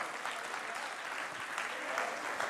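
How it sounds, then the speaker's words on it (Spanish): A church congregation applauds during a Spanish-language sermon, steady dense clapping heard from a distance at low level, with no speech over it. "Dale un aplauso al Señor."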